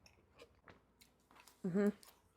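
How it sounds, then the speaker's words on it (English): Soft, close chewing of a bowl of vegan apple ice cream with walnuts, quiet crunching bites scattered through, then a brief louder murmur from the eater. "The crunch of the walnut really adds something."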